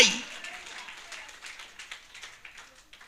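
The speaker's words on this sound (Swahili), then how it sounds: "Pigieni Bwana makofi." A church congregation claps and applauds for the Lord during a Swahili-language service, the clapping fairly faint and fading, with scattered voices under it.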